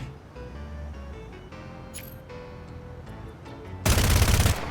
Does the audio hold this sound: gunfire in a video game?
yes